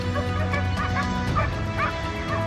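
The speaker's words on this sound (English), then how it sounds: "our pack of dogs discovered their tracks" A pack of hunting dogs chasing wild boar barks and yips continuously, several overlapping voices with occasional whimpers, loud and close with no gaps.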